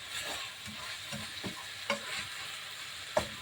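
Chayote and chicken fry in a pan under a soft, steady sizzle while a utensil stirs and scrapes, with several distinct clacks against the pan at irregular intervals, quiet and close, no talking.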